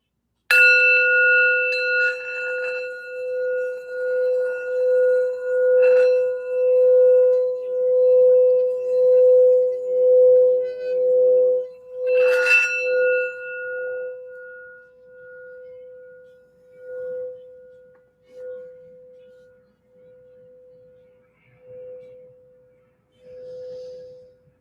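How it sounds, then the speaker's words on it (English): A healing sound bell struck once, ringing with a bright metallic tone and rich overtones, then a second strike partway through, each sustaining and slowly fading with a gentle wavering pulse over a long decay. "I just want to do this sound bell for healing and to help focus for the reading."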